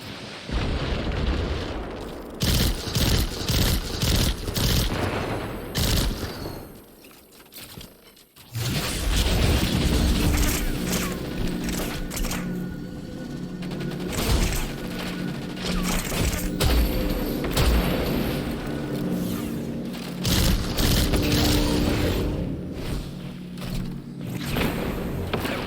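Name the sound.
grenade explosions in a video game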